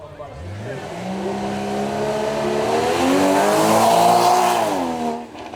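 Flat-engine supercar launching away at a demo flag drop at a motor show, the engine note climbing steadily through a long rising rev, loud and near, then fading as it pulls away.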